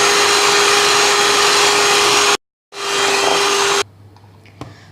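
An electric beater whirring loudly as it beats eggs with powdered sugar for a sponge cake, a steady high motor drone that cuts out briefly, restarts, then stops, leaving quiet clinks.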